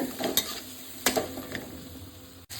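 Chilli paste and small puti fish stir in a hot pan with a gentle sizzle, broken by a few clinks and scrapes of a spatula against the metal, heard up close with no talking.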